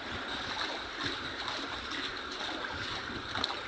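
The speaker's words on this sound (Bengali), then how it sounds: "রাস্তা উপর দিয়ে জল বইছে মনে হচ্ছে একটা নদী" Floodwater from heavy rain runs over Harisabha Lane, the street under roughly knee-deep water, a steady broad wash of flowing water with faint splashes heard close by, alone, with no talk.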